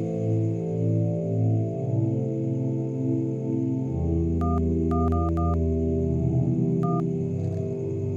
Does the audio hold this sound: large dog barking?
no